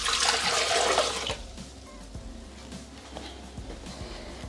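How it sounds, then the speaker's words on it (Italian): Water gushes into a Thermomix bowl for the start of an eggplant roll recipe, a loud rushing pour lasting over a second before cutting off to faint dripping and kitchen thuds. "Iniziamo la ricetta mettendo all'interno del boccale l'acqua."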